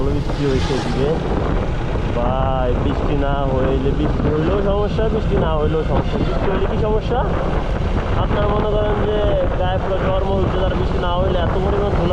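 Steady roaring wind buffeting the microphone, loud and continuous, with a person talking over it throughout.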